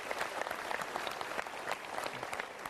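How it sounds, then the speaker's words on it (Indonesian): Studio audience applause during an Indonesian talk show, brisk, dense clapping with distinct individual claps popping out, fairly quiet and steady, no speech. "kita berikan tepuk tangan."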